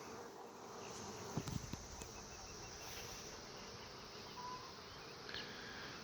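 A honey bee swarm being gently captured into a hive gives off a steady, soft, continuous buzzing, with a few brief louder bumps in the middle and no voices.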